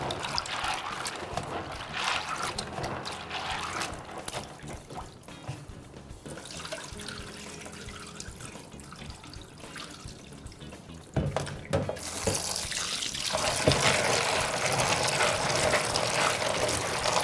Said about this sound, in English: So this is maize. Let us wash quickly.